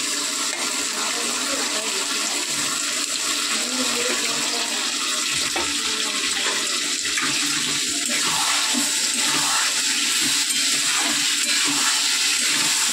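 Marinated crab poured into a hot pan of onion and tomato sets off a loud, steady rushing hiss and sizzle that holds for the whole stretch, with no one speaking.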